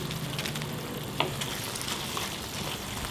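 Lemongrass stalks, galangal, lime leaves and bay leaves sauté in hot oil for an Indonesian ketupat vegetable stew, giving a steady soft sizzle with an occasional stirring scrape.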